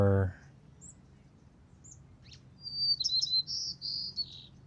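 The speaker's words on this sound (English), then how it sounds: "Sorry, I got distracted by that loud bird." Outdoors, a loud bird chirps and tweets in quick bright bursts. A few faint calls come first, then a close, clear run of chirps near the end over quiet background hiss.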